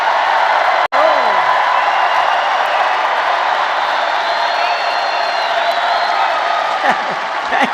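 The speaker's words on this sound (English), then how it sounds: "Can you imagine a crowd like this at like 1 o'clock or some ridiculous time in the morning?" A large crowd cheers and roars at a Trump campaign rally, a loud, dense, sustained wall of voices that cuts out for an instant near the start and then continues unbroken.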